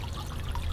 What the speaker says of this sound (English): the water that drains out from this spirulina filtering situation goes right back into the pond